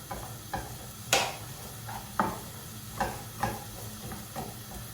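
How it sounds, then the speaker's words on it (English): Chopped white onion hitting hot oil in a pan, a steady close sizzle with soft crackles and scattered stirring clinks throughout, no talking. "So let's put the onion into the pan."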